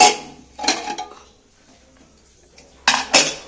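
Metal clanks of a pressure cooker lid being opened in a kitchen after cooking egg jackfruit curry, a few sharp clattering hits with quiet gaps between them.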